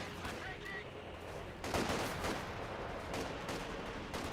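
Light machine gun fire from LMG grenadier squads in the real-time strategy game Company of Heroes 2 rattles in dense, continuous bursts amid other battlefield shots, with a voice talking faintly underneath.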